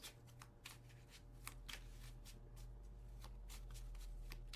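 Tarot cards are shuffled by hand in a quick series of crisp riffling flicks, close and fairly quiet over a steady low hum.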